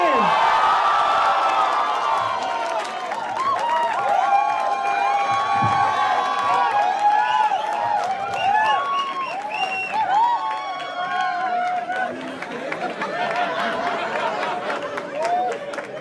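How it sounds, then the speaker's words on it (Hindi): A studio audience at an Indian comedy talent show cheers, whoops and applauds for a panel of four guests, loud and sustained throughout, with music and a host's voice layered over the crowd. "Make some noise for Raghav Juyal, Niharika NM, Rohan Joshi, and Munawar Farooqi."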